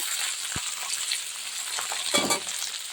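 Onions sizzle and crackle in a pan over a low flame, a steady hiss broken by a couple of thuds and scraping stirs.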